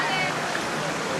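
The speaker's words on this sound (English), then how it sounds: "There's a nice waterfall coming down behind the castle." Waterfall on castle grounds in Munich, a steady broadband rush of falling water that holds constant and fairly loud through the short moment.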